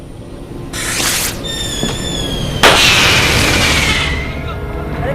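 Firecrackers going off in a crowded festive setting, loud bursts and crackling with a bright whistling streak, a sharp crack near the middle followed by a lingering hiss that fades out.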